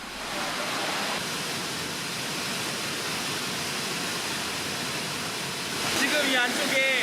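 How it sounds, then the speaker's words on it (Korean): A small waterfall in a glacier canyon in Iceland gives a steady, broadband rush of falling water, fairly soft and continuous, with a brief brighter patch near the end. "드디어 모습을 드러낸 건 작은 폭포입니다."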